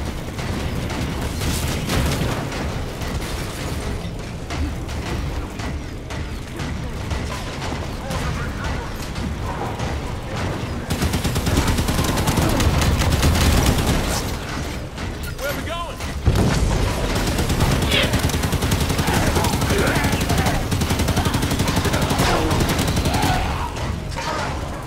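Sustained gunfire in a Halo 5: Guardians battle, a dense unbroken roar of rapid shots and explosions with heavier bursts midway, loud and close, with voices mixed in.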